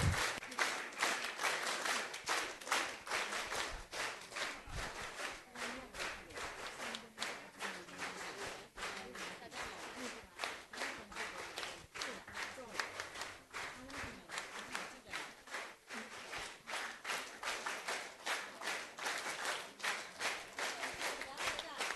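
Children at a Child Evangelism Fellowship teachers' session clap together in a taught rhythm to cheer others on, sharp repeated claps, fairly faint and steady, with speech mixed in throughout.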